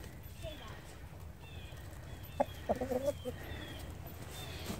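A large Jersey Giant rooster clucking a few times in a short low series outdoors, moderately close, over steady background noise and a voice talking.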